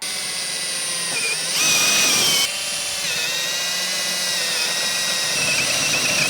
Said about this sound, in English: I just have to pre-drill, obviously, these 2 holes and then the hole into the metal beam itself.